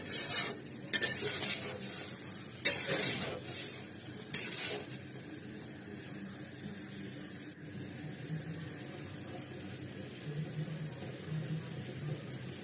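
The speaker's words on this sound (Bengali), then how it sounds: "আমি নাড়াচাড়া করে ঢেকে রান্না হতে দেব" A spoon or spatula stirs soya chunk curry in a cooking pot, a few scraping clatters against the metal early on, then a soft steady simmer and faint hiss continue quietly.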